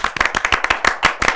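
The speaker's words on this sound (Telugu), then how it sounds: "గట్టిగా చప్పట్లు." Loud, close clapping from a small group at an interview with actresses Regina Cassandra and Nivedithaa, a rapid uneven run of sharp hand claps lasting over a second with no talk.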